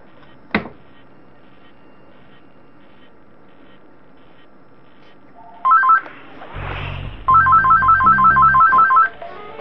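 Telephone ringing in short electronic bursts, a rhythmic warbling ring repeating several times toward the end after a quiet stretch with a single sharp click, fairly loud and close, with some low game-like tones underneath.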